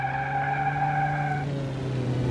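A car engine in the BeamNG driving game growls at a steady drone with a strong low hum and sustained higher tones that drop away partway through, close and without talk.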